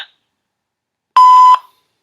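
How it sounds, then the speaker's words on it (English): An answering machine's recording tone sounds as a single clean electronic beep, loud and steady for about half a second after a near-silent pause. "Record your message after the tone."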